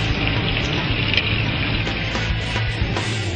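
Garlic, ginger and green onion frying in vegetable oil over rendered fat for Chongqing hot pot, a loud, dense crackling sizzle close by with a few sharp pops.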